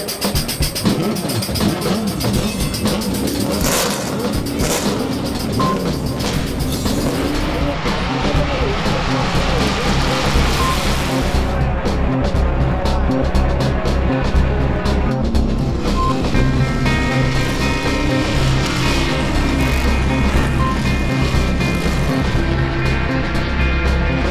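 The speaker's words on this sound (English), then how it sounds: "Vehicles race for 24 hours straight, testing the endurance of man and machine." Race cars scream around the track at the Rolex 24 at Daytona endurance race, a loud, continuous wall of engine roar with layered whining tones that never lets up.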